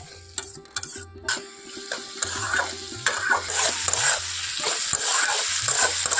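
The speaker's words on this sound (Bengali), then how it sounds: "তাড়াতাড়ি করে পেঁয়াজ আর টমেটোটা তেলের মধ্যে খুব ভালোভাবে ভেজে নিতে পারি" Onion and tomato fry in oil with a rising sizzle as a spoon stirs and clacks against the pan, irregular scraping knocks over a steady hiss that grows louder toward the end.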